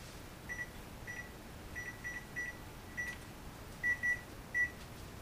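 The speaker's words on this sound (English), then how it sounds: "So don't forget to set your timer. We'll see you after it goes off." A kitchen timer sounds off with a series of short electronic beeps, soft and scattered at first, then a few sharper, louder beeps near the end over a quiet room hum.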